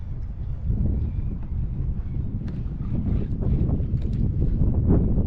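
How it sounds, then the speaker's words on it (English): Steady wind buffets the microphone throughout while kayak fishing, a low roaring rumble with gusty swells and no voices. "Yeah, it's pretty windy."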